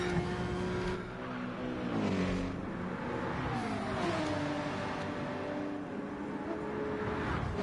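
Racing cars in a Nürburgring 24 Hour video game race, including the 666 McLaren and the 88 Porsche, roar steadily with engine revs rising and falling as they run side by side, with occasional tire squeal.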